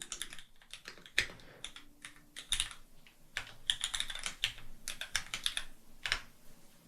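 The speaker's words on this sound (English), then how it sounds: "Now you'll notice as I'm typing, autocomplete pops up" Steady typing on a computer keyboard while coding in Xcode: quick, uneven bursts of close key clicks with short pauses between runs and no speech.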